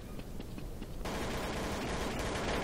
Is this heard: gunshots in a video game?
yes